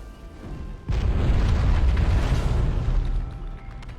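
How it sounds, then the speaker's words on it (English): A wall blows apart in the video game Dragon Age: Origins, a sudden deep booming blast that erupts after a quiet lead-in and rumbles on for a few seconds before fading, with no voices. "And then it's time to explode the wall."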